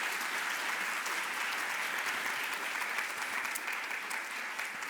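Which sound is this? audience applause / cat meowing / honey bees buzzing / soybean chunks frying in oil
audience applause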